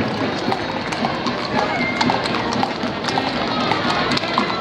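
Horse hooves clip-clopping along a street during a Deadwood, South Dakota parade, steady close hoofbeats mixed into busy crowd noise and an announcer's voice over a loudspeaker.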